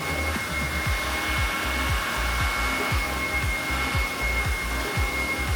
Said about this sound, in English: So I have my blow dryer with my comb attachment.